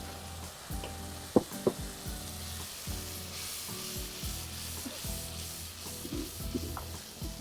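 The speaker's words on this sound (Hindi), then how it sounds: "तो इसमें जा रही है टोमेटो ब्लेंडेड हाफ कप" Half a cup of blended tomato goes into onions already fried golden in a pan, producing a steady, busy sizzle with scraping stir strokes and a couple of sharper clatters; no one speaks.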